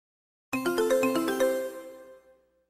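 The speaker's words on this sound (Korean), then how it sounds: "라우만 씨와 고천 씨가 전화해요." A telephone ringing as a cue in a Korean listening exercise, a bright melodic ringtone pattern played alone that fades out after about two seconds.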